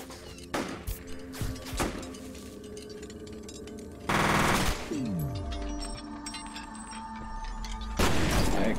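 An automatic rail gun fires bolts in F.E.A.R., with several sharp, punchy shots in separated bursts and a lingering mechanical hum between them, fairly loud with no talk.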